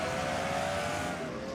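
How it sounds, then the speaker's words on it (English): Race cars pulling out of the pit lane at Charlotte in a NICS race, engines droning loud and continuous with a steady tonal whine and broad roar, no voices heard. "The rest of the cars coming out of the pit."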